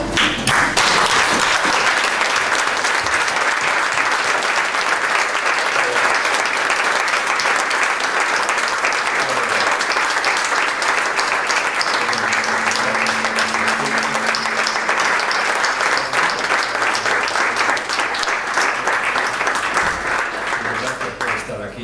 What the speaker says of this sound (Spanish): le dieras un aplauso fuerte al Señor